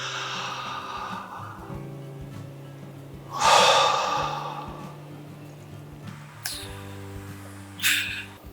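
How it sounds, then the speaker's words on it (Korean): A single deep inhale drawn during a seated hip adductor and pelvic floor stretch, a loud breathy rush lasting about a second that then fades, with softer breath noises afterward. "호흡을 크게 들이마시고"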